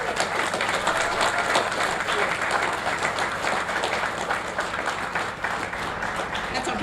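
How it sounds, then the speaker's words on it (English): An audience at a military and first responder tribute applauds World War II veterans, a long sustained round of many hands clapping, even and moderately loud throughout. "Please stand and let us applaud your dedicated service for our freedom."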